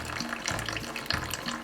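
Water and oil draining out of the transmission of a Sears Custom 10XL tractor, a steady splashing trickle with bubbling pulses, close and moderately loud, with no talking.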